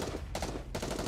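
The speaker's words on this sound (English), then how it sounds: "Gunshots tear through the air, the muzzle fixed on Black Typhoon's engine" Rapid bursts of machine-gun fire rattle in Goddess of Victory: Nikke as a pursuing bike is targeted, two dense fast volleys separated by a short gap over a loud game backdrop.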